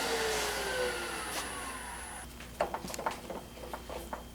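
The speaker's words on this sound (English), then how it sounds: "I'm going to drill through so I can mount the finial on the bottom and the cap on the top" A drill whines through a wooden Christmas ornament during a woodturning demonstration, its motor winding down in a falling tone, then a run of light knocks and taps as the work is handled.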